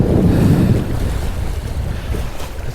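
Sea water surging over shore rocks on the Isle of Skye, a loud rushing wash with heavy wind buffeting, swelling at first then easing to a lower churn.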